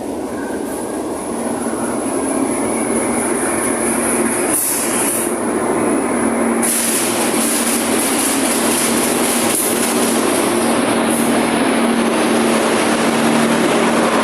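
Passenger train Joglo-Semarkerto, departing from Solo Balapan station in Indonesia, gives a loud steady rumble of rolling carriages with a high squeal of wheels and faint shifts in the roar, no voices.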